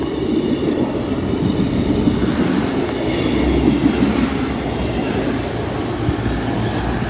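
A train passes through St Denys station, a steady heavy rumble of wheels and carriages that stays loud and close throughout with no pause.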